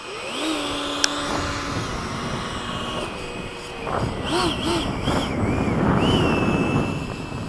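An F/A-18 jet passes in flight, a loud roaring engine with rising and falling whining tones that swell toward the end, heard under wind noise with voices talking nearby.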